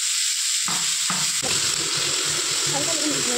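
Pineapple pieces drop into a hot frying pan, setting off a sudden loud sizzle in a few quick bursts that settles into steady hissing and stirring.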